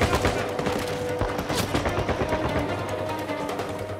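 Dense, continuous gunfire from a video game shootout in Uncharted 4: overlapping rapid shots and bursts rattle without pause, loud and close, with a low hum underneath.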